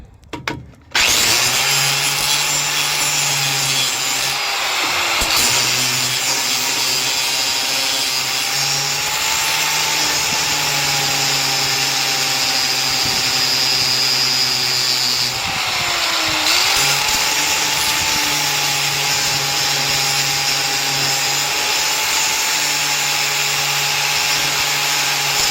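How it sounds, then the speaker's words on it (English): An angle grinder works steadily on a car's exhaust header to gain clearance, a continuous loud whine holding for the whole stretch with slight dips in pitch as it bears into the metal. "I'm thinking about putting a little tap of the grinder on that"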